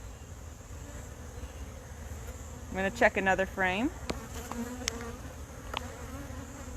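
Honey bees buzz steadily around a hive frame full of young nurse bees, a constant close drone that continues while a person speaks briefly partway through.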